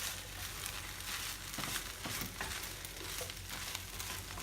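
Fried rice sizzling in a pan as chopped Thai basil is stirred through, a steady faint crackle with soft scraping strokes from the utensil.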